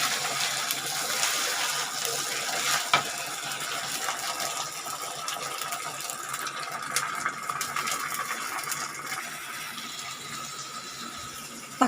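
Ground tomato paste frying in a pan for a drumstick masala, giving a steady, fairly loud hissing sizzle with faint crackles throughout, close by and without talking.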